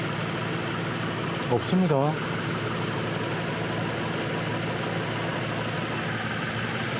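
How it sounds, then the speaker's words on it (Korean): A Lexus LS460 engine idles with a steady low hum, and a brief voice speaks over it partway through. "엔진 소리는 굉장히 좋습니다"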